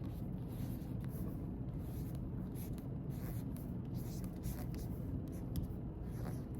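A pen or marker writes words on a spidergram diagram during assignment instructions, making faint scratchy strokes against a steady low background rumble.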